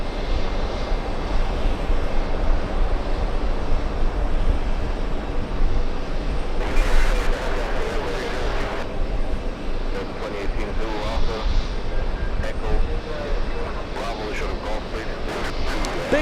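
Large airliner taking off on runway 22 left, a distant roaring engine rumble that swells and fades, with someone talking over it throughout.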